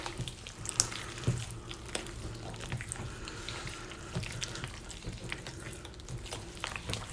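Wet, gritty scraping of a thick calcium carbonate and cornstarch paste being stirred, continuous and close, with occasional small clinks.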